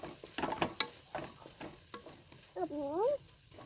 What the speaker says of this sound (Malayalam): ഇത് നന്നായി ഒന്ന് മിക്സ് ആക്കി കൊടുക്കാം